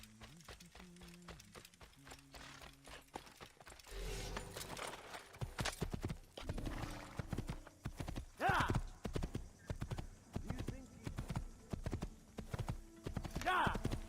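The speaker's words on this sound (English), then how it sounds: "It's a horse." Horse hooves clip-clop steadily in the Assassin's Creed video game, with a couple of short neighs near the end, while someone talks over much of the sound.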